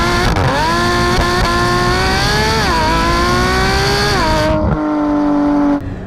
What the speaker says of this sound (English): is what a flat six should sound like